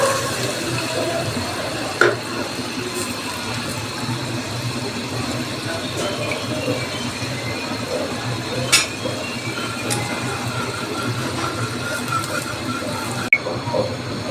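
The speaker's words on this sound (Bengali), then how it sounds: "ওইটার থেকে আমি এই যে রসটা বের করে নিয়েছি, ওইটা এখন ছেঁকে দিয়ে দিব" Soaked tamarind juice poured and strained into a pan, a steady close trickle and splash of liquid with a few small clinks, no voices.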